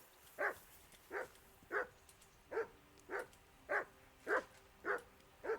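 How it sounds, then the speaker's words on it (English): A dog barks in the video game Kingdom Come Deliverance II: nine sharp, evenly spaced barks at a steady rhythm, fairly close and loud, with no other sound competing. "Jesus, Henry, that barking's driving me nuts."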